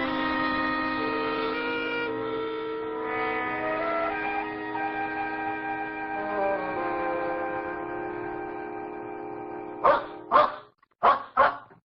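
A dog barks in several sharp, loud bursts near the end, following a long stretch of sustained whistle-like tones.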